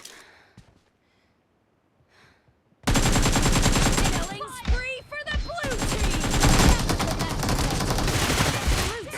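AKM rifle fire in PUBG, a long loud burst of rapid automatic shots that starts suddenly after near silence and goes on steadily to the end, with a voice heard faintly under it.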